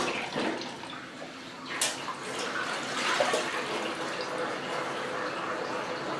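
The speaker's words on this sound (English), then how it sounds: "oh, it's draining." A 1996 Maytag Dependable Care Plus washing machine drains in a neutral drain, giving a steady wash of running, splashing water with a few brief drips and gurgles, fairly close and continuous.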